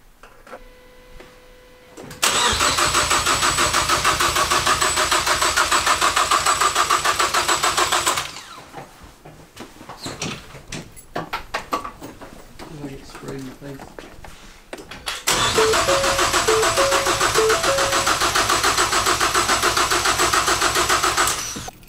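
A Ford Focus ST engine with a built engine swap cranks over with a rapid, steady starter whir for several seconds, stops, then cranks again, with brief talk in the pause.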